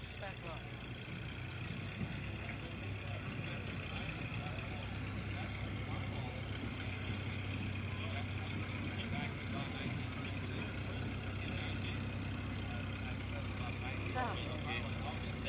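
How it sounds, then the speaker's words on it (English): Older snowmobiles drive past in a 1983 centennial parade, their engines a steady mid-distance drone lasting throughout, with people talking over it. "we have a variety of some of the older models of snowmobiles that are still around"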